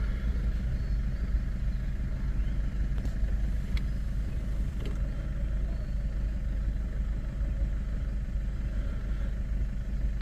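A vehicle engine idles steadily through the whole stretch, a low continuous rumble close by with faint clicks and knocks above it, during a night wildlife drive.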